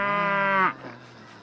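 A cow gives one long, loud, harmonic moo lasting about two-thirds of a second, then breaks off into a short, quieter tail, with no talk over it.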